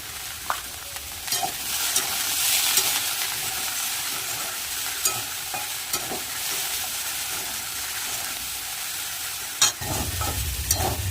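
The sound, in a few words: frying cauliflower, potato and onion in a pan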